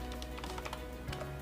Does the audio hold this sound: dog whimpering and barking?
no